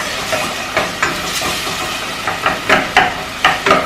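Onions and garlic sizzling in a hot pan, a steady close hiss with intermittent crackling pops and spatters, heard alone without talk.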